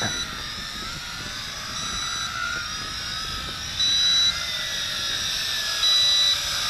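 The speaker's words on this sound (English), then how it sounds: "It has an annoying beep with the headless mode to let you know you're in it." A steady high-pitched whine of a Tarantula X6 drone's motors in headless mode, with faint repeated electronic warning beeps rising over the buzz.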